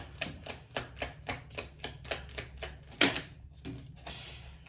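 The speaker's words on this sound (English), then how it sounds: "Okay, 3 cards fell." Tarot cards riffled in a steady run of about a dozen crisp, evenly spaced slaps, close and fairly loud, ending in a sharper flutter as three cards drop out, then a brief rustle.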